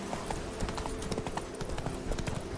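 Rapid clip-clop of the horse Roach galloping in the Witcher 3 video game, quick rhythmic hoof strikes repeating steadily and moderately close, with no speech over them.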